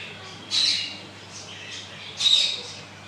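Parrots squawk inside a zoo shop, two shrill, harsh calls about two seconds apart, fairly close and loud over a quiet background.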